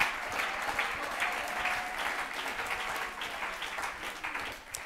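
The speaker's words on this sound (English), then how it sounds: "let's clap our hands and shout unto the Lord" A church congregation claps together during a worship service, a dense, steady wash of many hands that stays loud and close for the whole stretch, with faint voices mixed in.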